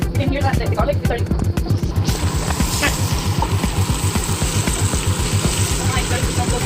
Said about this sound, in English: You can hear that the garlic is starting.